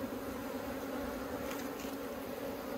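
Honey bees buzzing in an open hive during an inspection, a dense steady hum from many bees close by that holds without a break, with no talking.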